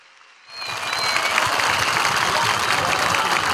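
Applause from a large crowd at a CHP political rally in Tekirdağ breaks out after a short quiet moment and swells into steady, dense clapping that continues loudly to the end.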